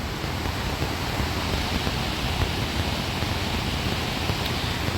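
A waterfall near Dajipur via Radhanagari running strong after heavy rain, a loud, dense and continuous rushing wash that stays even throughout with no pauses.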